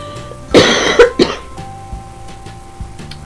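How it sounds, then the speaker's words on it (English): A person coughs three times in quick succession, close and harsh, followed by quiet room background with faint clicks. "Sorry about the nasty cough."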